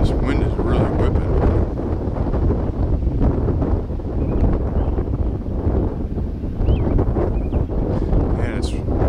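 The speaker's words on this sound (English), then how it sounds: "This wind is really whipping." Strong wind buffets the microphone in loud, continuous roaring gusts in chilly turkey-hunting woods, rising and falling without pause.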